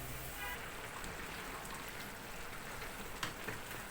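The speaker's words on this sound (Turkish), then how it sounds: "Çünkü en az 15-20 dakikadır kaynıyor." Spiced chicken sauté simmering in a pot on the stove, giving a steady, close bubbling hiss that runs unbroken and fairly quiet, with a few brief ticks near the end and no talking.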